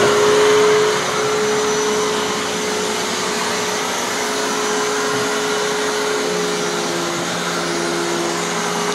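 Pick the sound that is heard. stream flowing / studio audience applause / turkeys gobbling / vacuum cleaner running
vacuum cleaner running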